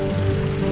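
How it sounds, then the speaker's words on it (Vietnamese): Steady rain falls in a continuous, even hiss on a roadside in a rural commune on the way to Gò Công, close and moderately loud, with a constant low hum underneath and no voices. "Được cơn mưa thứ hai rồi."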